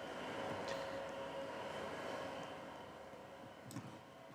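A train rolls along steadily in a train simulator game, a continuous low rumble with a faint whine and a couple of brief clanks near the end, with no one speaking.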